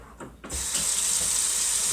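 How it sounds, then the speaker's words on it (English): Hot water gushes steadily from a kitchen tap into a sink after a brief clatter, a loud, continuous hissing splash close to the microphone. "Run hot water."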